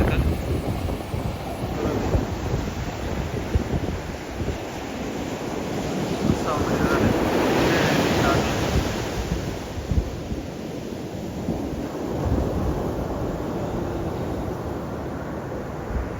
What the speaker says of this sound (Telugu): ఇది మా వెనకాల బీచ్, వాటర్ అయితే సముద్రం ఉంటుంది దీన్ని